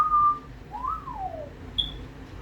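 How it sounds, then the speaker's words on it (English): A person whistles a short phrase alone: a held note, then a rising-and-falling slide and a brief high chirp, fairly close and clear. "I can still whistle."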